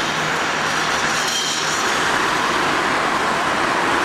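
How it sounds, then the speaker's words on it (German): Cut-off saw cutting concrete of the Berlin Wall at the East Side Gallery: continuous loud, hissing grinding roar, steady throughout and fairly near, with no voices. "Ja, man hört jetzt wieder den Trennjäger."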